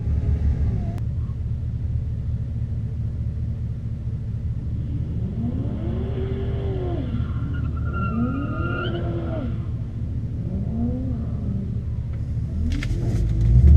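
A Ford Falcon BA XR8 lines up for a first run at an industrial estate event. Its low, steady engine rumble rises in several revving sweeps, close and fairly loud, with no talk.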